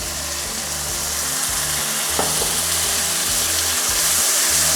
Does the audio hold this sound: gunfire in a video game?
no